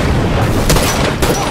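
A bomb goes off in a multiplayer match of The Last of Us Remastered, a loud, dense boom filling the short stretch with rumbling blasts and sharper cracks.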